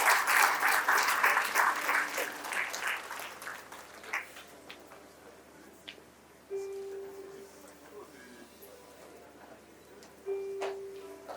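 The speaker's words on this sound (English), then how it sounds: "Please let's give him a round of applause." An audience applauds in honour of retired General Martin Luther Agwai, former Chief of Defence Staff, at a tribute event: clapping that is dense at first and thins out within a few seconds, then gives way to a quiet room with scattered sounds.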